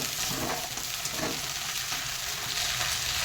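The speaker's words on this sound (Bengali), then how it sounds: "আমি আলু টমেটো আর এই উচ্ছে পাতাটা আমি ভালো করে ফ্রাই করব" Potatoes, tomatoes and bitter gourd leaves fry in a pan with a steady, even sizzle that hisses continuously throughout, with no talking.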